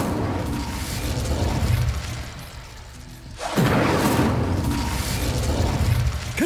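Incendio fire spell cast in the game Hogwarts Legacy: a rushing, roaring burst of flame whooshes in partway through after a dip, loud and sustained with crackling, over ongoing game ambience.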